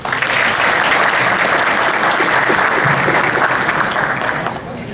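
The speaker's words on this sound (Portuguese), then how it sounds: "Nossos aplausos a Ricardo Jung." A seated audience gives a continuous burst of applause to welcome a speaker at a charity thrift-shop talk; the clapping is dense and steady and fades slightly at the end.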